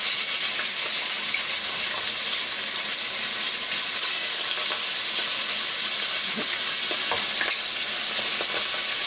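Seafood sizzles in a very hot pan while cooking for spaghetti in a white wine sauce, giving a steady, bright frying hiss with small crackles throughout and no talk.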